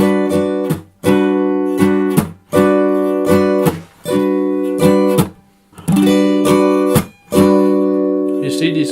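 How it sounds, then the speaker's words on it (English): An acoustic guitar is strummed in a steady rhythmic pattern, with the right hand keeping its motion while some strokes deliberately miss the strings, leaving brief gaps between bright chord bursts, loud and close. "I'm keeping my hand in this motion, my right hand, and I'm choosing sometimes to hit the strings and sometimes not to hit the strings"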